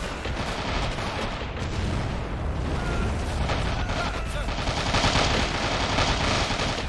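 Sustained gunfire from an enemy gun position on a 1945 Iwo Jima battlefield in the game Men of War: Assault Squad, a dense continuous clatter of shots and booms that keeps going with no let-up.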